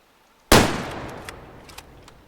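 A single sharp rifle shot cracks out at a bear during a hunting game, loud and close, followed by a long decaying echo with faint small knocks as it fades, no talk.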